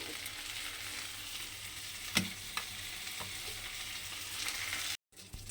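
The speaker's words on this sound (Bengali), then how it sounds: "এপিট ওপিট করে মাছগুলোকে আমাকে একটু ভেজে নিতে হবে" Steady, loud sizzling of prawns frying in hot oil fills the clip, with a few sharp pops and spatters, then a brief cut before the sizzle resumes.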